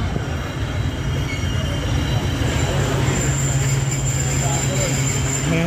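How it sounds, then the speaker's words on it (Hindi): The Tezgam Express passenger train slows to a stop at a station between Lahore and Raiwind. Steady rolling rumble and clatter sit under a sustained wheel squeal, with faint voices nearby. "ट्रेन रुक गई।"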